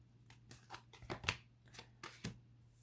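Tarot cards being shuffled by hand, a run of soft papery riffles and taps in quick bursts, close and quiet with a low steady hum underneath.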